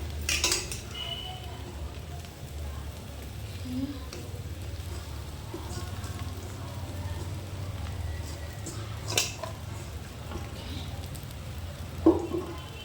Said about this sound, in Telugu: రైస్ అంతా అయితే వేస్తాను, కలిపిస్తున్నాను